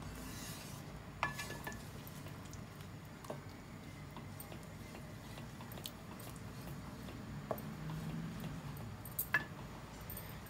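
Beef karahi with yogurt, tomato and onion is stirred and roasted in a pan, giving quiet soft squishing and occasional light spoon taps against the metal, faint and intermittent throughout.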